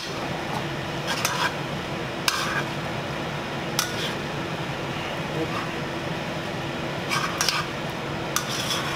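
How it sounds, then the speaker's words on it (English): Utensil clinks and scrapes against a pan as egg is stirred quickly into hot pasta for carbonara, with occasional sharp metallic taps over a steady low kitchen background. "we're gonna go ahead and mix that as fast as we can so it does not cook"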